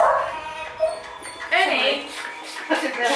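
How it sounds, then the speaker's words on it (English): A dog whimpers and yips in short, high, whiny bursts near the microphone, heard on the walk home from shopping, with people talking around it. "Don't walk past the dog."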